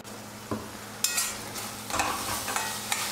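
Spices being stirred into potato spinach curry as it fries, with a soft sizzle under several distinct scraping stirs of a spoon against the pan, close by, no voices.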